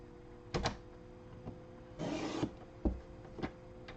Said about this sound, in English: we're going to trim it right here on the score line